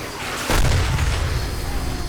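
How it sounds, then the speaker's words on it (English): A grenade blows up in the modded game 7 Days to Die, one deep booming blast that swells and rumbles on for a couple of seconds over steady background noise. "Alright, let's try a nade."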